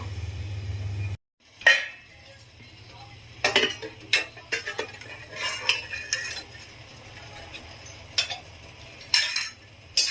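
A metal pressure cooker lid is set on top of a cooker holding coconut junnu, giving a series of close metallic clinks and scrapes over a low stove hum.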